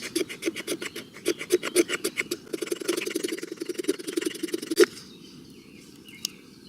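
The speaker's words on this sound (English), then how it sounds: "So we're giving our fatwood a good old scraping." Resin-rich fatwood scraped with a blade outdoors into fine shavings: quick, close, rhythmic rasping strokes that grow denser, then a final sharp scrape before the sound fades to quiet.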